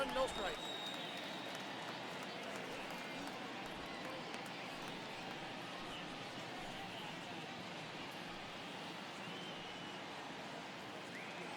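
Steady crowd murmur fills a baseball video game stadium throughout, with a faint continuous roar and scattered cheers running alongside play-by-play commentary.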